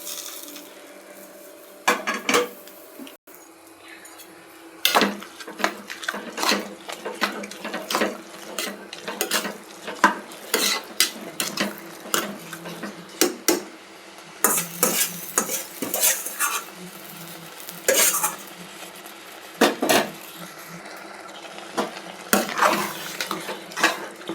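A spoon stirs spice masala into cooked rice and lentils in a pot for pongal, making repeated scraping, clinking strokes against metal in an irregular rhythm, close and fairly loud, with no talking.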